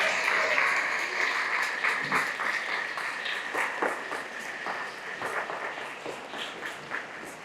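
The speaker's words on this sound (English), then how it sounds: "Let's give another round of applause to the first family of the state of Maryland" At a memorial dedication in Annapolis, Maryland, an outdoor crowd applauds in a sustained, moderately loud patter of many hands that slowly tapers off, with a few stronger claps standing out toward the end.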